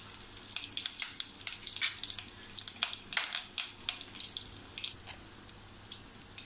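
Mustard seeds and eight to ten curry leaves frying in hot oil for a yam masala bhaji, a close crackling sizzle with rapid irregular pops and spits over a faint hiss, no voices.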